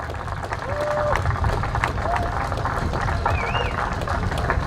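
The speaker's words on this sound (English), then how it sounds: "we need a big round of applause for Mike for this fabulous effort today" A crowd gives a big round of applause for Mike after his effort, with dense, steady clapping filling the whole stretch and a few faint whistles rising above it.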